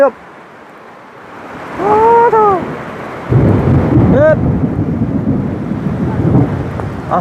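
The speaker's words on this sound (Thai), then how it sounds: "เปียกเบิดแล้วข้างใน โธ่ฝน" Heavy rain roars steadily on a village roof during a thunderstorm while deep thunder rumbles; brief whistling, chirping calls rise above the downpour.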